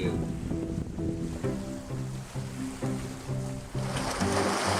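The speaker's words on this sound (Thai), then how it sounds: "ตอนนี้ผมมายืนอยู่หน้าโขดหิน ริมทะเลเนี่ยแหละ" Sea waves washing against a rocky seashore on the Thai east coast, a constant rushing surf with wind noise buffeting the microphone, while a repeating rhythmic musical pattern plays loudly over it.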